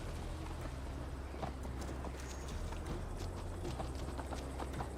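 Horse hooves while riding in the video game Assassin's Creed Valhalla, a steady clip-clop of a mount at pace, moderately faint over a low rumbling ambience.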